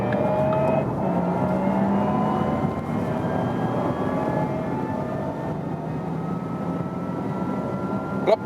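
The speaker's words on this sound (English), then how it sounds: "we'll accelerate from 30 kilometers an hour and just go all the way through" Porsche Taycan 4S electric car accelerating hard on the Autobahn up to 200 km/h, a continuous loud interior roar of wind and road noise with rising motor whine tones.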